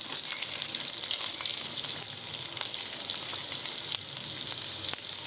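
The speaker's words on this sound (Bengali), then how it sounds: "পেঁয়াজ কুচিগুলো গরম তেলের মধ্যে এবার আমি দিয়ে দেবো।" Two medium chopped onions sizzle in hot oil in a pan, a dense, steady, close frying hiss with a few faint stirring ticks, with no talk.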